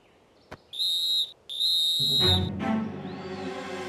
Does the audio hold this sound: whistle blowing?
yes